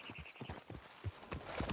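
A rider's horse clip-clops through the open countryside of Red Dead Redemption 2 at an even walking gait, its hoofbeats soft and slightly distant over a low ambient hum.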